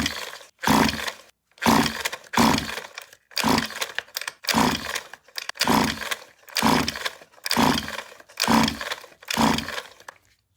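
A two-stroke engine with its spark plug out and the throttle held wide open is pull-started for a compression test: about nine sharp, even rope-pull bursts in a steady rhythm, each separated by brief silence.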